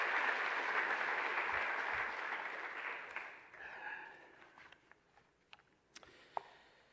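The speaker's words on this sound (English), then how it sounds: "that deserves a round of applause" A convocation audience at CSULB applauds, a broad wash of clapping that fades over a few seconds into scattered claps and quiet room noise.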